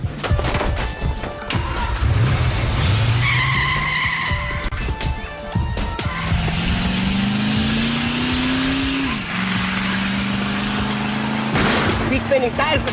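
A car tearing away with screeching, skidding tires, the engine revving up in long rising pulls, loud and close over a noisy action scene with shouting voices, ending in a sharp burst.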